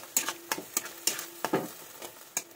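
Spice paste with sugar fries in oil for aloo dum, with a soft sizzle broken by regular scraping strokes of a spoon against the pan, about five per second-and-a-half, close and fairly quiet.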